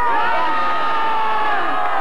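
An outdoor crowd at a concert in Pittsburgh cheers and whoops loudly and continuously, many voices blending into a steady roar close by.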